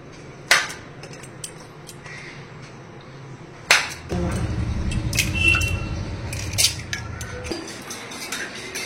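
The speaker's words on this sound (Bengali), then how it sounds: "কলাটা একটু সুন্দর করে কেটে নেবো।" A knife cuts a banana in a home kitchen, with a few sharp knocks against the board and a soft, squishy scraping run of slicing in the middle, close and clear.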